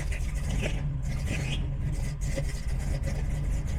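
A car engine fitted with a Killshot Fusion fuel injection system cranks and runs roughly, a loud, close, continuous mechanical rumble.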